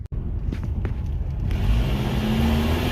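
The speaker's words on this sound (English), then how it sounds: "you can just hear that exhaust just blasting out that O2 sensor hole" A Subaru with its upstream O2 sensor removed ahead of the catalytic converter blasts exhaust out of the open sensor hole, a loud close rumbling roar that builds and swells as the engine revs.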